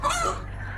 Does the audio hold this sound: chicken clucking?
yes